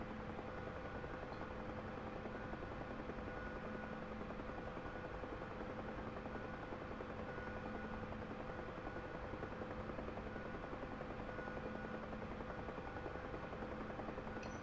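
Bell UH-1 Huey helicopter engine and rotor in the DCS flight simulator, a steady, loud droning hum with tonal whine running unbroken throughout, no voices present.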